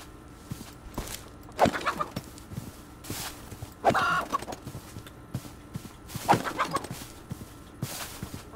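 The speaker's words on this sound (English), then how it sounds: "There's a lot of chickens here." Scattered Minecraft chicken clucks and squawks in short bursts, fairly quiet, with soft footstep-like taps between them.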